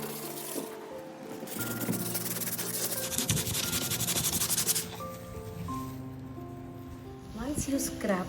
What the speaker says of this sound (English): So with the sandpaper we will scrap